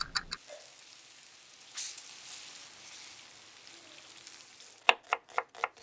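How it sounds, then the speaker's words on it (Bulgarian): Starch-coated pork ribs fry in melted butter in a pan, giving a soft, steady sizzle with a brief burst near the start and a run of sharp clatters at the end. "Запържете ребърцата 5 минути от двете страни."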